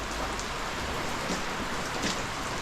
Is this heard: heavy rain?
yes